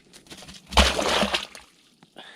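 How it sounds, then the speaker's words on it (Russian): Water rises in a borehole in winter frost, a brief surge that sloshes and gurgles for about a second, a muffled splashing burst that fades into quiet. "В общем, послушайте. Вода уже вообще вверх поднялась."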